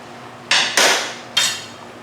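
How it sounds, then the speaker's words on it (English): Three sharp, loud hammer blows knock a part back onto a painted bike, the second and third coming close together with a clanging metallic ring, up close and with no talk. "Hammer this back with something."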